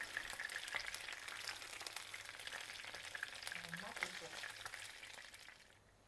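Chicken frying in a pan gives a soft, continuous crackling sizzle that fades away at the end, with faint stirring sounds and no speech.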